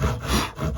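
Hand saw cutting through a squared wooden board, steady rasping back-and-forth strokes close up and fairly loud, with no talking.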